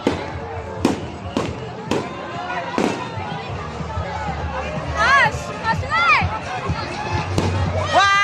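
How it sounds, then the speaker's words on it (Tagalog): Fireworks at the Sinulog festival in Mambaling burst overhead in sharp, loud cracks spaced a second or so apart, then crackle and whistle, while an excited crowd shouts and talks throughout. "Fireworks!"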